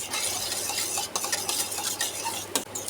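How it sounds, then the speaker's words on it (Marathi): Egg and cornflour mixture stirred in a bowl, quick repeated scraping and light metallic clinks of the utensil, close and fairly loud. "हे आता मिश्रण आपल्याला पूर्ण ढवळून घ्यायचं आहे पुन्हा"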